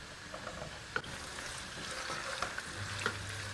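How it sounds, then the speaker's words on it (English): Onions frying in a pan, a soft continuous sizzle and crackle with occasional stirring clicks, faint and close. "And while the onions are frying"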